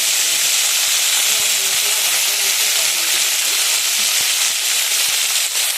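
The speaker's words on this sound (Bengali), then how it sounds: "তেলটা গরম হয়ে গেছে, তেলে একটা তেজপাতা দিয়ে দিচ্ছি।" Bay leaf dropped into hot oil in a pan, a loud, steady, close sizzling hiss that holds evenly throughout.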